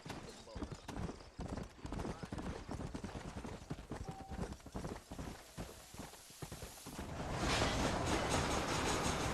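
Horse hooves clip-clop steadily in the video game Red Dead Redemption, a close, rhythmic trot under the characters' dialogue, with a rushing swell of ambient noise rising toward the end.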